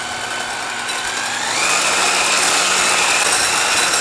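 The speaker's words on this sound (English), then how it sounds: "Whisk this until you have formed nice stiff peaks." Electric mixer whisking egg whites with sugar, cream of tartar and almond extract toward stiff meringue peaks, a steady loud motor whir that rises slightly in intensity partway through, with no talking.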